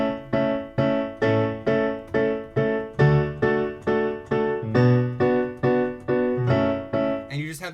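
On piano, the bridge chords of a song are struck one after another in a steady, even pulse, each chord ringing briefly before the next. The playing is clear and close, with no voice, ending on a brief higher flourish.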